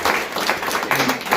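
Audience clapping at a school board candidate debate, a dense, steady round of applause from a room full of people, lasting the whole brief moment.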